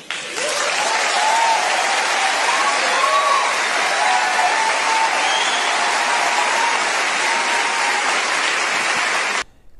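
An evangelical church congregation claps for a human rights minister in loud, dense, continuous applause lasting nearly ten seconds before it cuts off abruptly.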